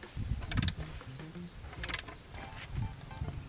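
Someone tightens the chain adjuster of a Kawasaki ZX-4RR motorcycle by hand, making two brief, close metallic ratcheting bursts with softer mechanical clicks and scrapes between them.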